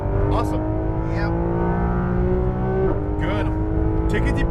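A race car screams at full throttle on the Las Vegas circuit, its engine note loud, close and sustained throughout, while an instructor's voice coaches over it in brief bursts.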